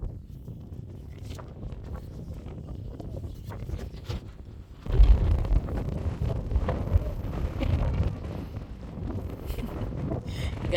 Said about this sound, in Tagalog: Grabe kid ka windy oh.